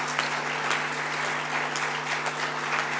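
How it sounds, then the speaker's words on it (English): Steady, dense applause from a large audience at an annual general body meeting's valedictory session, sustained clapping filling the hall with no voices over it. "I think that deserves a huge round of applause. Keep clapping."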